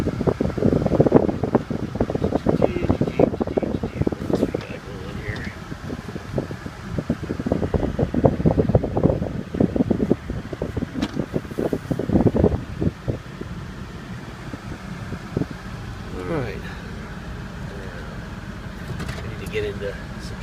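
The AC fan in a 2004 GMC Sierra diesel 4x4 crew cab blows a steady rushing stream of air with gusty buffeting, loud and close at first and then settling lower, while someone talks over it.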